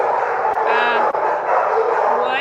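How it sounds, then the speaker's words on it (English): Dogs at a shelter yip and whimper in short, close bursts under steady background chatter and clatter, with a couple of sharp knocks. "there's two dogs here that one of the volunteers asked me to meet"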